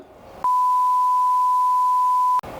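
A single steady pure-tone beep sounds loud and alone for about two seconds, starting and stopping abruptly.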